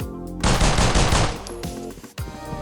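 Sustained automatic gunfire in Critical Ops, shot through filing cabinets on the Bureau map: a dense, loud rattle of rapid shots that tails off into a few scattered bursts, with no voices.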